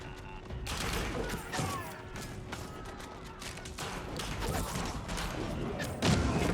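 A mangonel volley in Age of Empires 4, a burst of heavy thuds and crashing impacts amid battle clatter, moderately loud and irregular, with some game mechanism noise.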